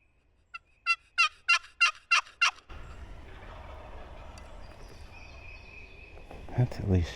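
Wild turkeys gobble from the woods, a rapid series of about six loud, rattling calls in quick succession, then fading into quiet outdoor ambience with faint distant noise.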